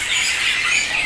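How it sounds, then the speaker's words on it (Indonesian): A rainbow lorikeet in a bird shop gives a loud, harsh, continuous squawk close to the listener, with no talk over it. "Untuk Nuri Pelangi yang jinak ya, teman-teman."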